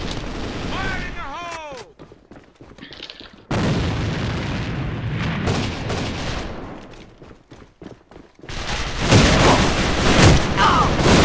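Explosions and gunfire in the online shooter Alliance of Valiant Arms, with loud booms and bursts of shots separated by quieter stretches and brief game voice effects, ending in a strong blast.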